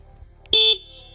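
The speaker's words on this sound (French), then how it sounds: "Le klaxon." A motorcycle horn gives one short, bright honk of about a quarter second, loud and close, against a quiet background.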